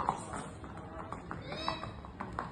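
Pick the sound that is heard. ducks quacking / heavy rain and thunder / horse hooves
horse hooves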